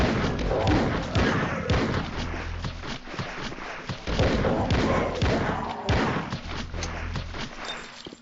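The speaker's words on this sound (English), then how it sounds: "Your starting pistol is a revolver which will 2-shot the lower tier enemies. It also has a satisfying sound and reload." Revolver pistol shots and reloading from the N-Gage first-person shooter Ashen, a dense run of loud, thudding game sound effects with repeated sharp impacts and clatter throughout, no voices.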